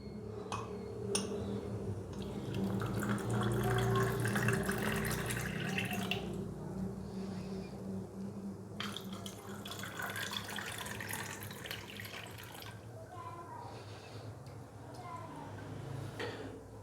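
Cold water pours and splashes into a glass of lemon squash for several seconds, followed by quieter clinking and handling sounds, with a voice speaking at times in Hindi.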